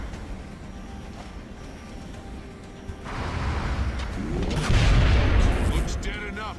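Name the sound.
gunfire in the video game XCOM Long War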